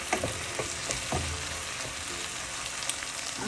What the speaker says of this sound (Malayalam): ഉള്ളിയെല്ലാം ഒരുവിധം വഴണ്ടിട്ടുണ്ട്.